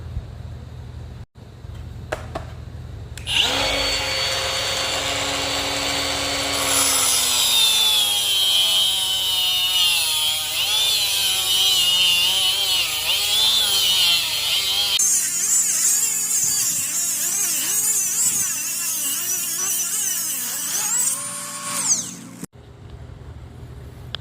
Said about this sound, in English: Now for cutting the coils off, we don't have a coil cutter, so I'm going to use this Milwaukee die grinder.